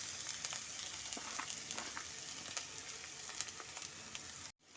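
Grated carrots sizzle steadily in a pan of hot oil with black cumin seeds and slit green chillies over medium heat, a close, even crackling hiss that cuts off abruptly near the end.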